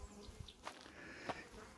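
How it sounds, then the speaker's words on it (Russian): Honey bees buzzing at an apiary, a faint, steady hum with a few brief louder passes close by and no talking. "буду кормить пчел, забирать у них по рамочке"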